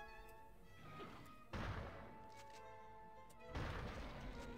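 An explosion in the N64 shooter Turok 2 lands as two heavy booming crashes with rumbling tails, separated by a short lull amid the game's background sound.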